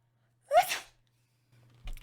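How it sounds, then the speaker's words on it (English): A single person sneezes once, a short sharp burst up close, while working on a Minecraft build in springtime; quiet follows, then faint rustling and a low thump. "Just had a little bit of a sneeze there."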